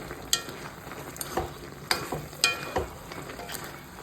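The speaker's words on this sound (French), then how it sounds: "Mélangez bien en la sauce là." Kofta is stirred through a thick sauce in a pot, the spoon scraping and knocking the sides in irregular strokes over a low simmering sizzle, quiet and close with no voices.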